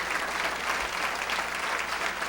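Applause from a charity dinner audience for the Boys & Girls Club, a dense and steady clapping of a crowd filling the room at close range and heard on its own.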